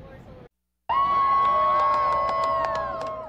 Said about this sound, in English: and then everyone cheering for the moon covering the entirety of it